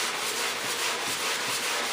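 A sanding block with fresh sandpaper rubs over a model jet in steady back-and-forth strokes, a close, continuous gritty scratching with no voices.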